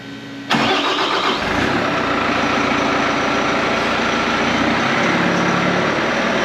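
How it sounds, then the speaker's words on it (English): A Bobcat diesel engine cranks and catches abruptly, then settles into a loud, steady rumbling high idle close by. "the second time we'll start the engine"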